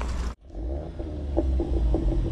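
A VW Golf 8 R Performance with an Akrapovic exhaust being moved, its engine giving a steady low rumble and throb that drops out briefly then resumes with soft pulsing, no talking.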